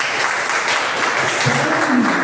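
Applause from a church congregation during an evangelism sermon, a broad steady wash of clapping that fills the short moment without any talk over it.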